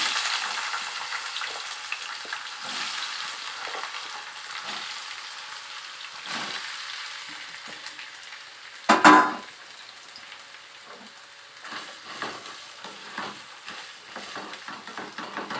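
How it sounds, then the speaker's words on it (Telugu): Ivy gourds fried in about four spoons of hot oil in a pan, a steady close crackling sizzle with a sudden loud burst and stir partway through. "నేను ఆయిల్ హీట్ అయింది. ఇప్పుడు దొండకాయలు వేసేస్తున్నాను."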